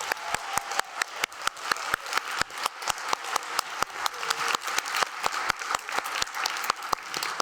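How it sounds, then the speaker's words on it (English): Audience applause at an education conference battle session, crisp claps forming a sustained, fairly loud wash with a few sharp, rhythmic hand claps standing out regularly throughout. "let's see the applause meter once again"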